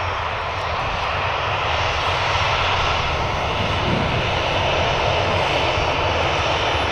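Ryanair airliner taxiing past at Manchester Airport, a loud steady jet engine roar that holds near and constant throughout.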